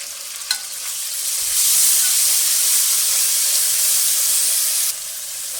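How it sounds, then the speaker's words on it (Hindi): Loud, continuous sizzling of onion, garlic and chopped tomato frying in a hot pan, a short clink near the start, the hiss swelling and holding steady before easing slightly. "इनको 2 से 3 मिनट तक अच्छी तरह से इन्हें फ्राई करने के बाद या भूनने के बाद"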